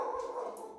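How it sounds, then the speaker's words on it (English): A dog barking, a single drawn-out tonal bark or whining yelp that holds steady for under a second at moderate loudness, heard without talk. "what's the dog barking at?"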